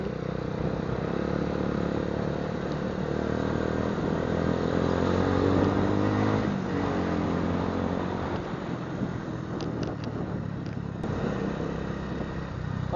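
A KTM motorcycle on a road test around Baguio City drones steadily throughout, the engine note rising and falling slightly under continuous wind and road rumble with no talking.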